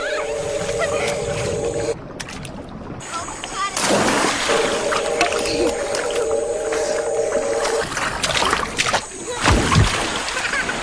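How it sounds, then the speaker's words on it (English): Splash tetras in the Amazon leap from the water, producing a few short, scattered splashes amid sustained tonal background sound, with a narrating voice speaking over parts of it. "In the Amazon, splash tetras stage a leaping contest."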